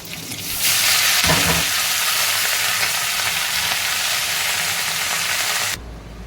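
Leafy greens dropped into hot oil with chilli in a wok burst into a loud, dense sizzle that holds steady for several seconds before cutting off abruptly.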